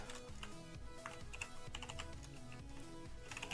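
Rapid, uneven keystrokes on a computer keyboard clatter steadily for a few seconds at close range, with a low hum underneath and no talking.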